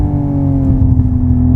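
A Hyundai Ioniq 6 N electric car playing its simulated gasoline engine sound while accelerating, a loud close droning hum with a steady low tone that rises gently under a rumbling texture, with no talking.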